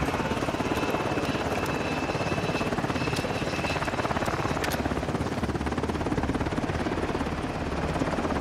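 Helicopter in Call of Duty Modern Warfare II flying steadily nearby, a loud continuous rotor thrum and engine buzz filling the whole stretch with faint game effects above.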